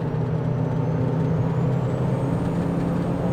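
A turbocharged Honda Civic with a bonnet-exit wastegate rumbles with a loud, steady, low engine drone, a faint high whine rising slowly beneath it.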